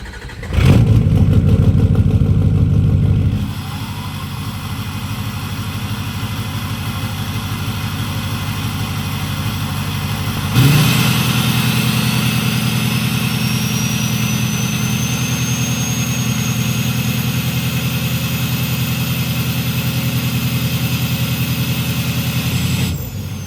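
A 6.0 Powerstroke diesel truck with a loud aftermarket exhaust and a VGT turbo, heavy close engine drone that shifts to a deeper steady rumble, then surges again, while a rising turbo whistle sweeps up over it.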